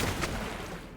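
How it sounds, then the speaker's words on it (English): A ship cannon breaks apart during a naval battle in the pirate video game Rogue Waters, a dense, loud, crackling burst of gunfire-like impacts that runs steadily for about a second, with no voices. "Well, now my cannon's getting broken."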